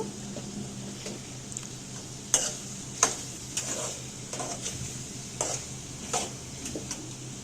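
Chili powder and salt stirred into a cucumber-tomato prawn curry, with a spoon scraping the pan in repeated strokes over a soft steady sizzle, close and moderately quiet with no talk.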